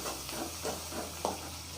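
Capsicum curry ingredients with curry leaves frying in a pan, a soft steady sizzle with a few brief crackling bursts, close and fairly quiet, no talking.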